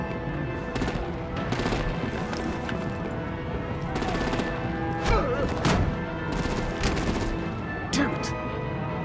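Gunfire from the Batman: The Enemy Within video game, bursts of shots and sharp cracks in a busy action scene with music and effects underneath.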